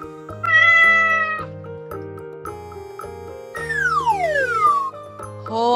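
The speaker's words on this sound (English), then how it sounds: "Cat." A cat meows clearly in the foreground, a loud drawn-out cry over a light musical backing, with a descending musical sweep following.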